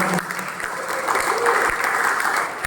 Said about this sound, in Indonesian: Beri tepukan tangan kepada wanita